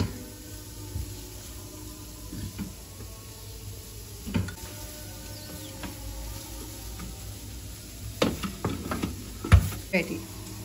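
Samosa filling being mixed with sauce in a pan, soft scraping and stirring over a low sizzle, with louder clatters and scrapes of the utensil toward the end, close by and without speech.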